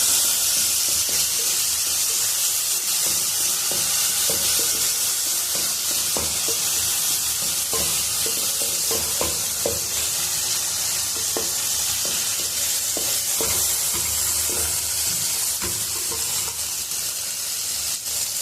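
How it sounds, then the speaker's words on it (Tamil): Onion and tomato sautéing in a pan for channa masala, a continuous bright sizzle and hiss with scattered scraping stir strokes and small clicks throughout, close and alone with no talking. "இப்போ வெங்காயம் லைட்டாக வதங்கினா போதும் ஆனால் தக்காளி நல்லா வதங்கணும்"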